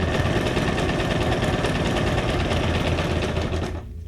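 A sewing machine runs steadily through a zigzag stitch, a loud continuous mechanical whir with a fast rhythmic clatter that slows and stops near the end as the pedal is released.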